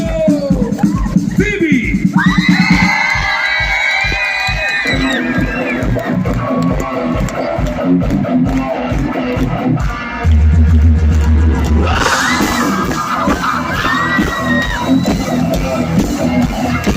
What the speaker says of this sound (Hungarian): Fogadja őket nagy ováció, taps, sikítás, minden.